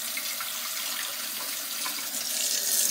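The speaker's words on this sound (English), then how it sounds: "put scalding hot water in there, let the scalding hot water fill up" Scalding hot water running from a tap into a cat's water bowl, a steady close splashing rush that holds for the whole few seconds and swells slightly toward the end, with no voices.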